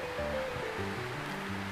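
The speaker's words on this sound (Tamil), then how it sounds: "ஒரு அரை கிளாஸ் தண்ணி ஊற்றிட்டு" Half a glass of water is poured into a pan of tomato sauce for red sauce pasta, giving a soft, continuous rushing pour with faint tonal sounds underneath.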